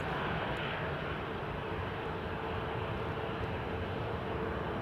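A SkyUp Airlines aircraft at London Heathrow gives off a continuous, even engine rumble and hiss, steady and moderately distant, with no voices heard.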